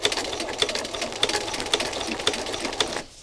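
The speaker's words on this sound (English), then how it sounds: "what I need to do is to get these layers stitched together" A sewing machine stitches fabric layers together in a steady, fast mechanical whirr with a regular clicking rhythm, close and continuous, then stops.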